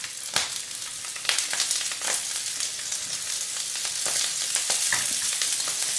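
Sausages fry in a pan with a steady, close crackling sizzle, broken by sharper pops and spits throughout.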